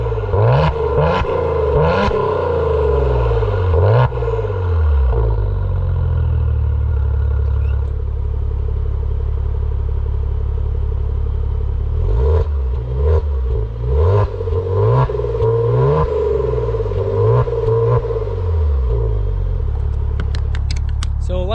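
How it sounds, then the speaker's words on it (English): Maserati Quattroporte engine switched between sport mode and regular mode, a loud steady engine drone with repeated rising and falling revs, rough and close throughout. "I want to let you guys hear the difference between this car in sport mode and this car in regular mode"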